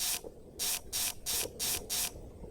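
Footsteps crossing a bridge in the PS1 game LCD Dream Emulator: five evenly paced, hissy, crackling steps with a sticky, tape-like texture, separated by short quiet gaps.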